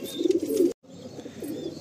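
Pigeons cooing at a pigeon sale, low soft coos near the listener with a brief gap partway through, no talking.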